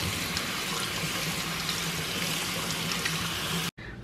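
Tap water runs steadily into a sink or bowl as small sweet rice grains are rinsed, a continuous close splashing hiss that stops abruptly near the end.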